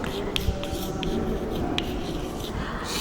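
Chalk or marker scratching steadily across a classroom board during a Hindi physics lesson, a continuous close rubbing stroke with a few sharper taps, heard alone without talk.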